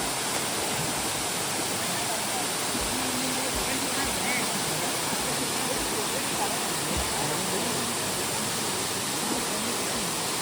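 A year-round waterfall at Green Valley, Tilarinagar, gives off a steady, dense roar of rushing water that fills the whole stretch without a break.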